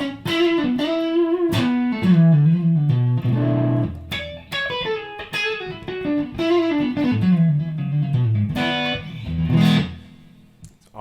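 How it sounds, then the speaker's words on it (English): An electric guitar plays a melodic phrase of sustained notes through a tube amp, a soft reverb tail from a Boss Tube Amp Expander trailing each note, loud and alone. "Right now I'm just using a little bit of reverb from the tube amp expander"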